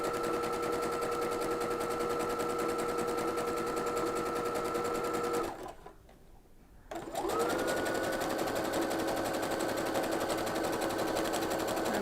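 A sewing machine fitted with a fringe looper foot runs steadily and loudly, stitching loops in a continuous whir, pauses briefly midway, then starts up again and keeps stitching.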